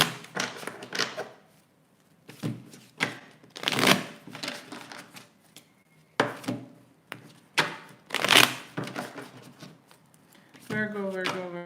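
Tarot cards being shuffled by hand, heard as a run of quick papery riffles and bursts with pauses between them; a voice comes in briefly near the end.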